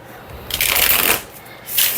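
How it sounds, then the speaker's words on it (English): A deck of matte oracle cards is riffle shuffled, giving a quick burst of fluttering card flaps followed by a shorter second riffle, close and crisp. "I don't really have any issues riffle shuffling this deck."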